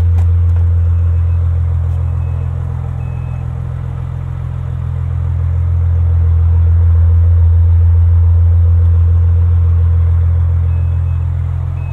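A 2020 Maserati Levante GranSport engine in sport mode drones with a deep, steady rumble from inside the cabin, swelling slightly midway, with no talk.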